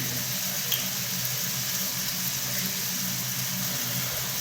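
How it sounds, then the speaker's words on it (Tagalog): A steady, loud hiss and sizzle of water hitting a hot pan over a strong flame, continuous and unchanging throughout. "At syempre, lalagyan natin ng kaunting tubig."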